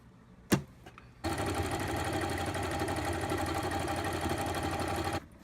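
Sewing machine running a zigzag stitch along a pants seam, a loud continuous motor hum with rapid needle chatter lasting about four seconds, preceded by a sharp click.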